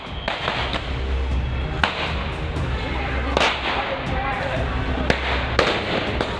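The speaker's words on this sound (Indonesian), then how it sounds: "Tembakan peringatan dilepas petugas gabungan saat membubarkan tawuran antar ormas di Larangan Tangerang, Banten, Kamis pagi." Warning shots are fired by officers breaking up a street clash between mass organizations in Tangerang, Banten, sounding as repeated sharp cracks spread through the clip over a loud, noisy crowd.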